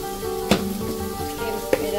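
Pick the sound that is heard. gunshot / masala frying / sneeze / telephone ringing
masala frying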